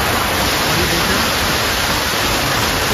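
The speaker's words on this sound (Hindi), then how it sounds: "पहाड़ों से जो पानी नीचे आ रहा है उस पानी का उपयोग करके इन्होंने एक वाटर टर्बाइन बनाया हुआ है।" Mountain water rushing down to drive a water turbine in the Chitkul area, a loud, dense, unbroken roar heard close up with no talking.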